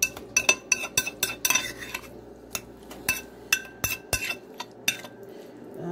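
Olive oil and salsa stirred in a bowl with a utensil, giving a rapid run of sharp metallic clinks and scrapes against the bowl's sides, close and fairly loud, with no voices.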